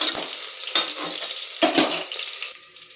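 Onions frying in a pan give a steady, close sizzle, broken by a few stirring scrapes, before the sound fades near the end.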